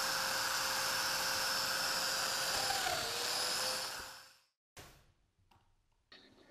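A domino joiner cuts mortises into narrow wood pieces held against a stop block, giving a loud, high-pitched steady whine that winds down and stops, followed by a couple of short clatters.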